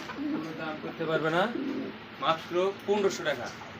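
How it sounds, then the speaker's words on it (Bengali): Cooing of a female pigeon kept among other pigeons for sale, soft repeated throaty coos in close, steady bursts that rise and fall across the clip. "পিছে যেটা আছে এটা হচ্ছে মাদি কবুতর"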